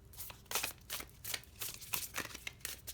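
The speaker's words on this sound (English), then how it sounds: "fast forward while I'm shuffling" Tarot cards are shuffled close up in a quiet room, giving soft, rapid riffling bursts that repeat in short irregular strokes, with no voices.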